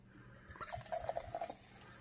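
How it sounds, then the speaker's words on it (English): Mountain Dew Frost Bite soda trickles and drips into a cup in short, close splashes that build to a brief pour and then fade, quiet and with no talking. "Pour a little bit in my cup."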